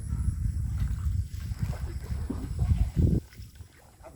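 A rowboat moves through water on the way into a guava orchard area, with steady low water and wind rumble and a brief stronger splash near the end.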